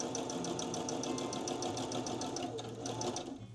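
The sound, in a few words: sewing machine stitching fabric edges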